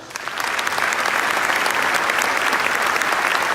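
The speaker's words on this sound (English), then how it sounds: "Let's give them another round of applause" Sustained audience applause fills a police department recognition ceremony, a dense, steady wash of many hands clapping that swells in over the first half-second and holds loud throughout.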